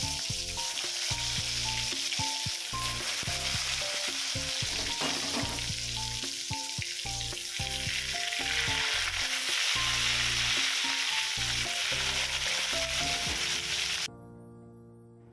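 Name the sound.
eggplant slices frying in hot oil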